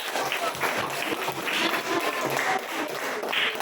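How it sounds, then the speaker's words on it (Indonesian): Applause from a classroom of students, an uneven patter of many hands clapping at close range, fairly quiet and continuous throughout. "Tepuk tangan semuanya."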